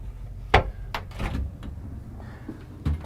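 Door clunks and slides inside a 2022 Newmar Supreme Aire 4590 Super C motorhome as the shower door is moved, with a sharp knock, a few softer bumps and rattles, then a final thud.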